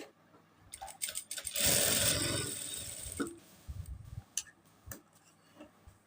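A sewing machine runs a double stitch along the shoulder seam of a small boy's kurta, a loud continuous whirring burst in the middle with lighter ticking and clicks before and after.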